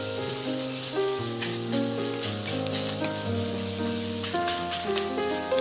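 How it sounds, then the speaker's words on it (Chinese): Chili peppers sizzle and fry steadily with salt in a hot wok, a continuous close crackling hiss with faint scraping from stirring and no voices. "加入一点食盐翻炒，这样辣椒更爽脆"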